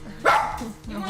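A small, easily scared dog gives a single sharp bark indoors, close by, with a person talking over it.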